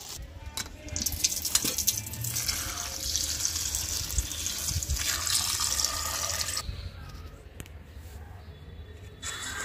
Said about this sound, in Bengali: আমি এখন ফুল পান কলাগুলো ধুয়ে নিব।